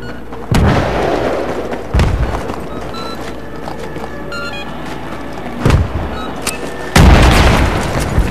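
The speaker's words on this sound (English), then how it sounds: "Stand back. C4 blowing!" Several loud C4 explosive detonations in a video game shooter, deep booming blasts at irregular intervals, the biggest near the end, over continuous low rumbling battle ambience.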